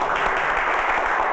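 Dense, steady audience clapping that holds at an even level throughout, in a Hindi film scene.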